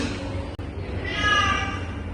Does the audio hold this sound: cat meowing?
yes